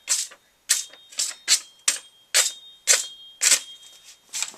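A knife slices through paper in a sharpness test, with a steady series of about ten crisp, sharp cutting strokes close up and no talk.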